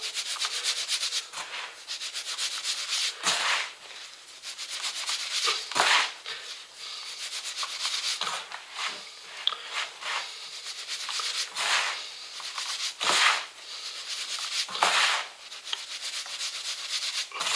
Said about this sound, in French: il faut mélanger, casser les grumeaux